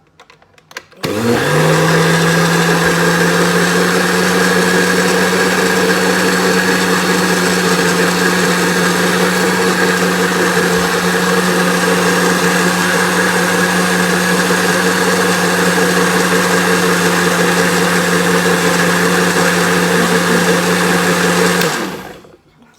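An electric mixer whirs steadily through pancake batter in a home kitchen, a loud, continuous motor drone with a constant hum that starts abruptly and cuts off near the end, with no talking.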